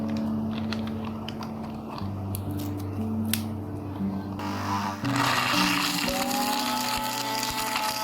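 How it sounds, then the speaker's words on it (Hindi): An electric kitchen grinder whirs while breaking dried bread slices into breadcrumbs, its motor steady at first and then turning into a louder, rougher grinding roar partway through, heard up close. "तो मैं इनको अब तोड़ के इसके अंदर डालूँगी ग्राइंडर के अंदर।"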